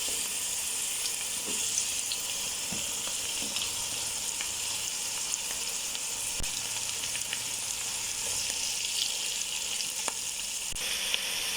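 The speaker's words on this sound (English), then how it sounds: "Once the spices have fried a bit" Spices sizzling steadily in hot oil in a pan for a trotters and beans curry, a continuous close crackling hiss with small pops throughout and no talking.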